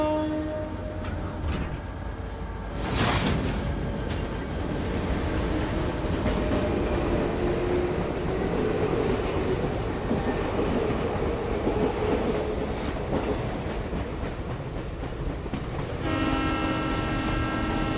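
The Molintelli Express, a luxury train in the Professor Layton and the Diabolical Box video game, rumbles steadily on the rails with a loud continuous roar and faint rhythmic clatter, while tonal game music rises briefly near the end.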